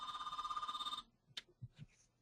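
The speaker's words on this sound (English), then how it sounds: "Sorry, that's my phone." Phone ringing during an online training webinar, a faint warbling electronic ring pulsing rapidly for about a second, then stopping, followed by soft clicks and handling noises.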